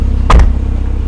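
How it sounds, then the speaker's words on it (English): A Porsche 911 Targa 4 GTS engine rumbles loud and low at close range, with one short sharp burst near the start and then a steady idle. "the car starts, and it is loud"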